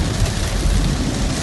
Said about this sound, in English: as you can see, it's raining cats and dogs.